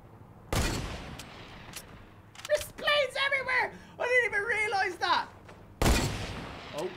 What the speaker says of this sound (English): Oh, where's that shot coming from?